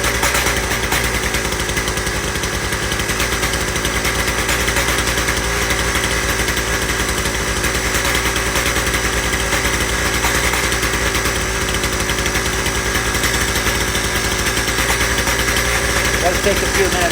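A two-stroke engine idles steadily in freezing cold weather, warming up with a continuous low, even drone and light vibration, close by and alone for the whole stretch without any talk.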